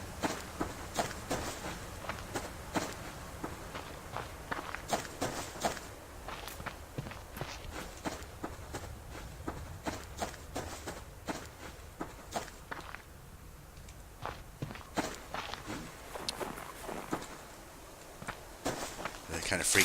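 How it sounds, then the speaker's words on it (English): Footsteps crunch through snow in the survival game Subsistence, a steady run of soft close steps lasting the whole stretch, with a person talking over them. "I heard my footsteps in the snow, and it changes. The sound changes."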